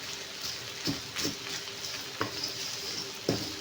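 Tomatoes roast in a pan with a low, steady sizzle, punctuated by several distinct spatula knocks against the pan and a fan running nearby.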